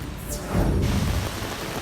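Heavy rain in Sydney falls as a dense, steady hiss of broadband noise, loud and close, with no voices.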